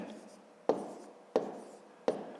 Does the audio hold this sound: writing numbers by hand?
yes